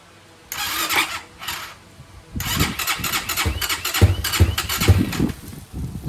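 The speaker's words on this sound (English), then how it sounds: "So key is on. Went ahead and pulled the choke. See if it lights off." An X-Pro Templar 250 dirt bike with the choke pulled cranks over in two short bursts, then catches and runs roughly, revving unevenly up close.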